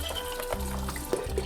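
Broth pours into a soup pot of tomatoes and kidney beans in a steady liquid gush for a brief moment, near and fairly quiet, with no voices.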